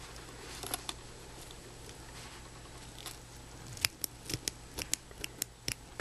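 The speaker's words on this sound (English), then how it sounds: "cut your ends" Small scissors snip the thread ends of a beaded daisy chain barefoot sandal, producing a series of sharp, close clicks that grow more frequent near the end over a quiet room hum.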